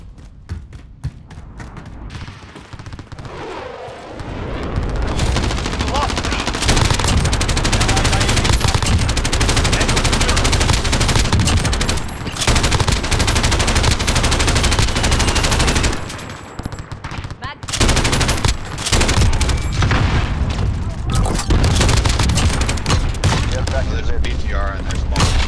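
Sustained automatic gunfire from a BTR armored vehicle in the tactical shooter Squad rattles loudly for long stretches, dense bursts with brief lulls, mixed with battlefield noise and occasional voices.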